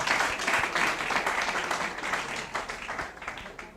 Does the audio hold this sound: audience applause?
yes